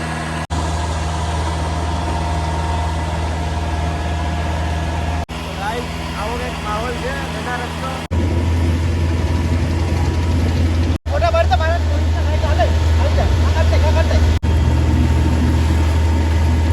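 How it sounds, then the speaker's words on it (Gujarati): A low, steady motorboat engine drones throughout on the Ganges at Varanasi, with people talking over it and a deeper engine rumble swelling partway through as another boat passes. "આ બાજુમાં એક બીજી બોટ જઈ રહી છે"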